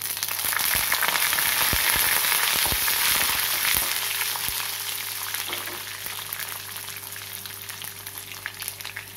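Garlic sizzling in hot oil along with urad dal and mustard seeds for a vallarai keerai thuvaiyal, a steady loud bright frying hiss with a few soft clicks of stirring early on, easing slightly toward the end.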